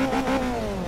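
A car engine revs in Forza Motorsport 3, a Recaro 200HP run-off event: a steady, loud, buzzing mid-pitched drone with harmonics that swell and then slowly fall, continuous for a second, with no talk.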